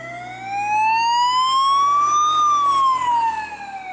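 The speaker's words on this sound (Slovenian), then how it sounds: "zdaj se slišijo se sirene" A single police car siren wails clearly, rising slowly in pitch, then falling away, loud and prominent with no talking over it.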